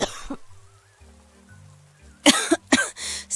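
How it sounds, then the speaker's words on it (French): An elderly woman with a persistent cough hacks in a few sharp, close bursts, one early and then a cluster of harsh coughs near the end, over a quiet indoor background with faint music. "Cette toux ne s'arrête pas."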